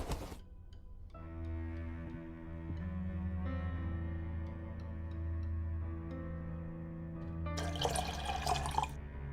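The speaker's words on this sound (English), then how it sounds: "I'll pour out the developer." Photographic developer liquid is poured out in a game scene, a soft steady trickle and drip under sustained musical tones, ending in a brief louder splash.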